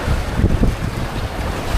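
Strong wind buffets the microphone over the heavy, churning wash of rough sea waves.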